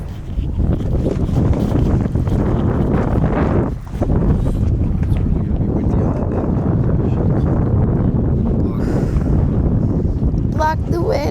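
Strong wind buffets a boat off Western Australia, a loud, rough continuous roar of gusts against the microphone with a brief dip partway, sea and hull noise mixed underneath.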